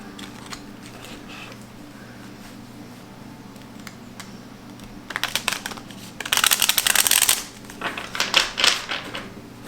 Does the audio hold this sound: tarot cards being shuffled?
yes